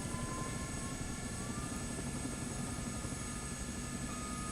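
A CH-47 Chinook helicopter engine starts up in Microsoft Flight Simulator 2024, a faint, steady turbine whine and hum holding constant without voices.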